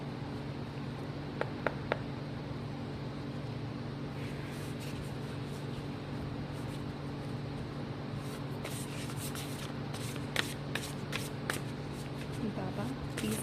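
Tarot cards are shuffled in repeated soft riffling bursts over a constant hum of room noise, quiet and close, with a few brief clicks between them.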